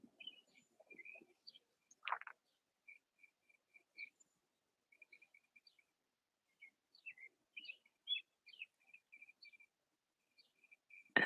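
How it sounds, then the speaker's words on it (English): Birds sing outdoors, faint and distant, with thin scattered chirps and whistles spread across a quiet stretch, plus a couple of brief louder sounds and no talk. "like the bird song"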